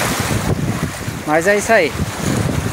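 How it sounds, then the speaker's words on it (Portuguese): Steady wind blows across an open fishing spot by the water, a continuous rushing roar buffeting the microphone throughout, with someone speaking briefly over it. "Ainda o vento continua."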